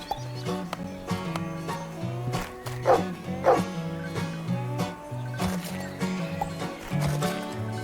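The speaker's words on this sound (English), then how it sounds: "we need to use the dog barking noise for when you can't plant anything anymore" In a farming indie video game on Xbox, a cartoonish dog-bark sound effect plays again and again over steady, bouncy background game music, with animal noises and clip-clop sounds layered in.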